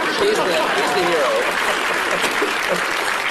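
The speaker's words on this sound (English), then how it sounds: "You can applaud him." Applause from an audience rises and continues steadily for a few seconds, with crowd noise and voices mixed in.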